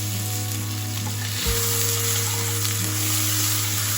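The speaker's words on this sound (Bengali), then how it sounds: "তেজপাতা আর শুকনো লঙ্কাটা একটু ভাজা ভাজা হয়ে গেলে এইবার দিয়ে দেব 5 ফোড়ন" Bay leaf, dried chili, five-spice seeds and grated ginger fry steadily in hot oil, a continuous close sizzle with a steady hum beneath and a brief clatter midway, no voices.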